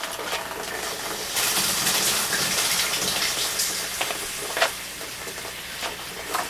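Water gushing and hissing steadily from a nearby leaking outdoor hose bib, a constant spraying rush with occasional splashes and no voices.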